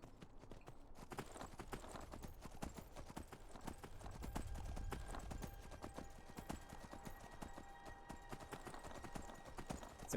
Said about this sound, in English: It's so hard to get off the horse.